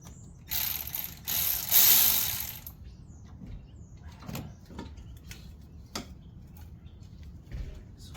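A ratchet loosens a bolt during a cold air intake install on an Infiniti G35 Coupe, a few quick close bursts of rapid clicking at the start, followed by scattered light taps and clicks.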